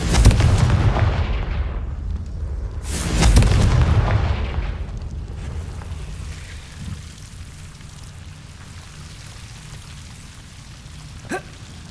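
Confringo blasting spell in Hogwarts Legacy: two heavy booming explosions in quick succession, the second swelling and rumbling away into a long low tail with a faint crackle, no talk.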